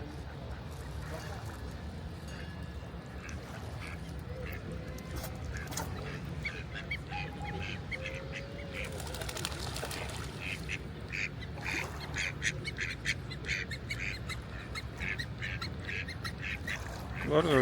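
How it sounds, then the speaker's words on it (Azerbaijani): Ducks quacking by a lake in Geneva, scattered honks and quacks at a moderate distance over outdoor ambience, with people talking throughout. "Var ördəkdir, ancaq bunu bilmədim nədirsə."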